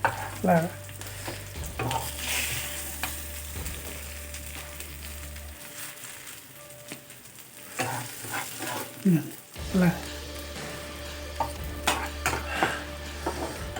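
Fish fries with masala in a pan, sizzling steadily up close while a utensil stirs and scrapes against the metal at intervals.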